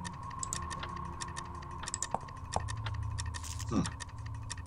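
A bleeding clock in the Fran Bow game ticks in a steady, fairly quick rhythm, close and distinct over a low ambient drone, with a few louder clicks and a brief rising sweep near the end.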